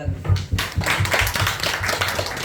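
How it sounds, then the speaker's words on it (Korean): A church congregation at a Sunday morning service claps steadily together, a dense patter of hands filling the space, with a voice faintly underneath. "우리 하나님께 박수를 해요"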